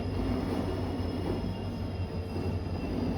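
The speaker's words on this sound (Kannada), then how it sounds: "ಟ್ರೈನ್ ಬರುತ್ತಂದರೆ ಯಾವುದೋ ಲೋಕೋಮೋಟಿವ್ ಓಡಾಡ್ತಾ ಇದೆ ಅವಾಗಿಂದ." A locomotive moves about the tracks at Mysuru Junction station, giving a steady heavy rumble and rail hiss with a faint high squeal, reverberant and sustained with no voices.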